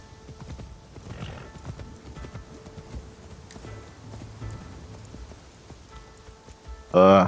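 In the Assassin's Creed Shadows video game, a horse's hooves clop steadily at a walking pace under rain, fairly quiet, and the horse gives a loud, close whinny at the very end.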